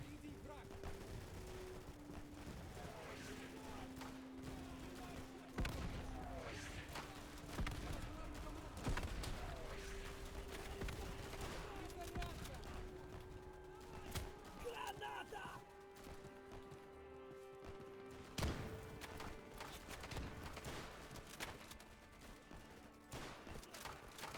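MG42 machine gun fire in Easy Red 2 during a Stalingrad battle, bursts of gunfire mixed with distant battlefield shots and a droning engine tone, continuous and moderately loud throughout.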